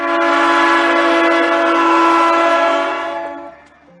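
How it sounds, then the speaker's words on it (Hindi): A train sounds a long, loud blaring horn as it arrives, the tone holding steady before fading away over four seconds, as a horror-story sound effect. "देखो, हमारी ट्रेन आ रही है, चलो।"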